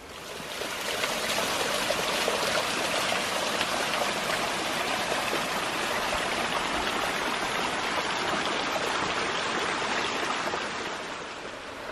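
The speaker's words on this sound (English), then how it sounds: "I love little mountain streams like this, just so natural" Small mountain stream on Ben Nevis rushing and trickling over rocks, a steady, close, unbroken wash of flowing water with no voices.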